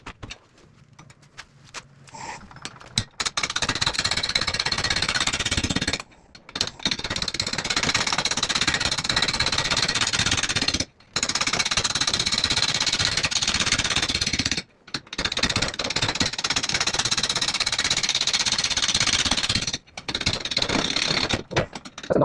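A wood lathe spins a large mesquite burl bowl at about 240 RPM, giving a loud, steady broadband roar with a rough mechanical rattle, broken by several short pauses where the sound drops out abruptly.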